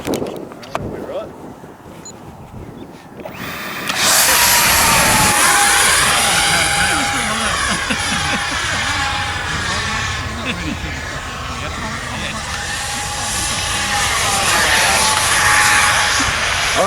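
A 3D-printed model Cessna DragonFly aircraft flies with a loud, steady, high-pitched motor whine that rises and holds. Wind buffets the microphone, and voices and rustling come before it starts.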